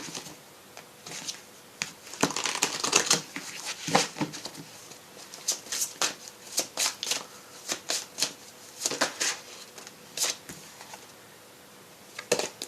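Oracle cards are shuffled by hand in a quick series of soft riffling bursts and flutters, close and fairly quiet, with brief pauses between.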